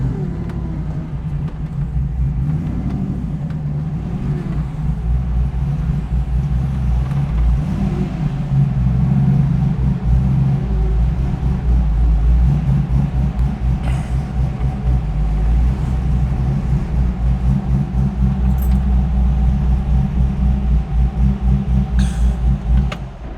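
A 1967 Pontiac Firebird pulling up an uphill driveway in first gear, its engine a loud, steady low rumble that holds close and constant throughout with a slight rise in effort midway.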